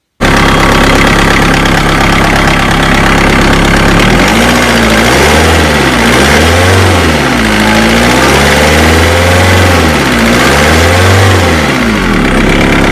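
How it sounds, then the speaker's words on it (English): A VW T4 Transporter engine runs loud and close, idling steadily before revving in repeated rising and falling pulls of the throttle. "I can show you a clip of the engine running from a while back."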